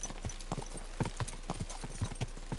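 Rhythmic hoofbeats of a galloping horse in the video game Kingdom Come: Deliverance 2, a quick repeating clip-clop pattern, fairly quiet and steady.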